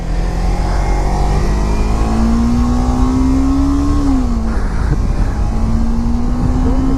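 A Kawasaki Ninja 300 motorcycle pulls away in first gear, its engine droning loud and close with a steadily rising pitch, a brief dip as the revs shift, then a continued climb over wind noise.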